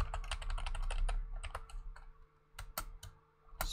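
Rapid clicking keystrokes on a computer keyboard while writing a Roblox script, close and steady, with brief pauses between bursts of typing.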